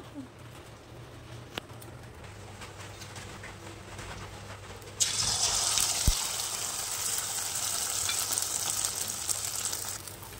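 Egg omelette frying in a pan, a steady hiss of sizzling oil that starts abruptly midway and continues, with quieter background noise and a faint low hum before it.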